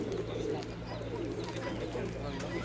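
Pigeons cooing at an outdoor bird and small-livestock fair in Severodonetsk, a low steady murmur of many birds under crowd chatter and voices.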